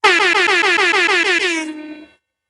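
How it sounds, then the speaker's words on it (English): Air horn sound effect played on a livestream: a loud, blaring multi-tone blast pulsing rapidly in short repeated bursts, then holding and trailing off before silence. "I just shot the air horns"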